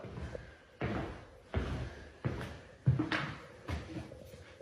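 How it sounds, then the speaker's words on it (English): Dull, heavy thuds strike a wall inside a house, about six of them at uneven intervals, each a sharp muffled impact with a short tail, loud and close in an otherwise quiet room. "Did you hear that thump?"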